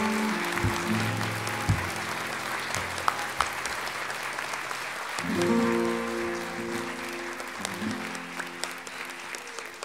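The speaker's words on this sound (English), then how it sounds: "Let's give them a round of applause for their bronze medals." An audience applauds bronze medal winners at a live contest event, with warm, steady clapping from a moderate crowd, with sustained musical tones playing underneath and a brief swell midway.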